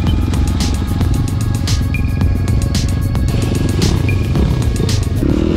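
An enduro motorcycle rides through a forest at night, its engine a steady, loud rumble throughout with a few clattering knocks over rough ground and no speech.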